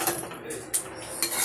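A spoon stirs spinach in a cooking pot, giving a few short metallic clinks and scrapes against the pot over a soft background hiss.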